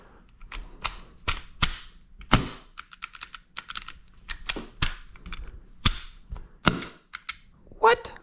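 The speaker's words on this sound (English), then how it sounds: "Let's see if it'll cycle the airsoft gun." A cheap CO2 airsoft gun fires and cycles, giving sharp, close snapping shots. The shots come in irregular single pops and quick pairs, spread across several seconds with quiet gaps between them.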